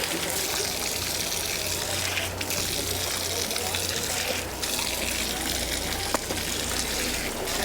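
Cold, naturally flowing mountain stream water splashes and trickles as someone washes their face on the Kedarnath trek, a steady close wash of running water throughout.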